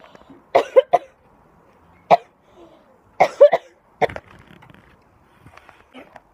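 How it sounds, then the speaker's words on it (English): A person coughs in a series of sharp, close bursts at an outdoor barbecue, with a few quieter throat sounds trailing off in between. "Finally, I've stopped coughing."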